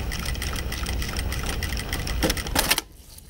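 A sewing machine runs steadily for about two and a half seconds, stitching in reverse along a seam, with a brief louder burst near the end before it stops and goes quiet.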